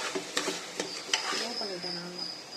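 Chopped onions, coriander and mint sautéing in a pan for vada curry, with a soft continuous sizzle broken by several sharp spatula scrapes and stirring clicks, close and fairly loud.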